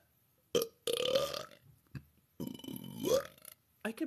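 Several loud, close burps in a row, each a deep drawn-out belch with short pauses between, heard alone without talking.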